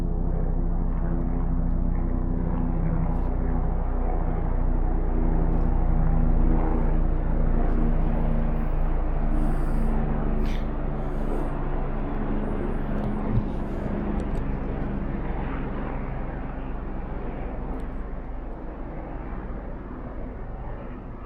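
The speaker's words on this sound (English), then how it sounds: "Aeroplane or something." A propeller-driven aeroplane drones overhead at night during a UK bicycle-touring camp in Lincolnshire, a steady low hum that slowly fades over about twenty seconds, with a faint click partway through.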